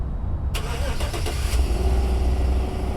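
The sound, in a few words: car engine starting some distance away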